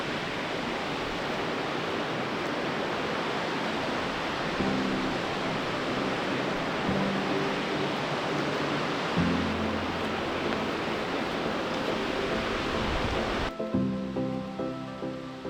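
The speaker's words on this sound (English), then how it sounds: "I'm gonna see if I can't capture that real quick and see if you can just hear the rushing of that sound." Rushing waterfall at Cataract Falls in Indiana, a steady, broad roar of falling water filling the whole stretch at close range, with faint tonal sounds surfacing partway through and near the end.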